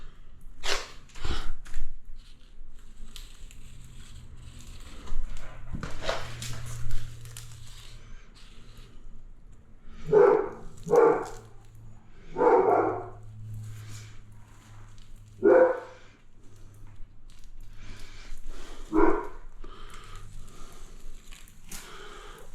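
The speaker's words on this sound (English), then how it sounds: "Yes, we've got a big dog." A big dog barks outdoors in a series of separate, deep woofs, spaced several seconds apart, mixed with other scattered background noises.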